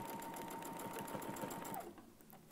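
Sewing machine running steadily with a Westalee ruler foot, a continuous close whir of rapid stitching that slows and stops near the end.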